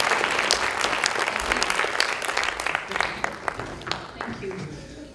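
Audience at a keynote talk breaks into sustained applause, dense loud clapping that gradually thins out, with a voice speaking over it.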